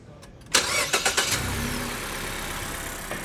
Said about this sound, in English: So go ahead and start the car.